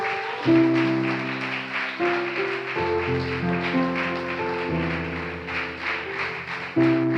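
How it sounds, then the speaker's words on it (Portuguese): A church congregation claps together in a steady wash of applause, partly beneath sustained keyboard chords that shift and swell throughout. "Vamos aplaudir o Senhor mais uma vez"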